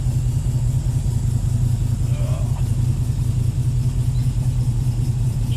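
A Holden VK Commodore runs on its first start in eight years, a steady low engine rumble close by with a constant idle throb throughout.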